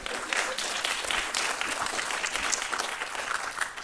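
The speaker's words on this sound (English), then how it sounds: "Yes, you can applaud." Audience applause at a public meeting on the Register of Wills operation backlog, a steady wash of many hands clapping that holds evenly for about four seconds at moderate volume.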